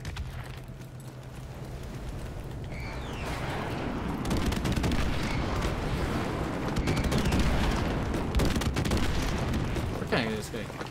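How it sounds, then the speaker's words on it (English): Airstrike explosions rumble and crack through a Call of Duty: Modern Warfare Remastered multiplayer match, heavy blasts building in the middle amid gunfire and game noise, with players talking over them. "Friendly airstrike on the way."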